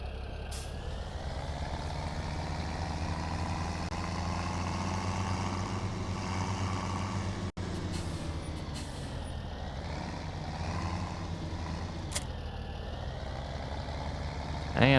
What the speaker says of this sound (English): let's grab our case tractor and we'll grab the seeder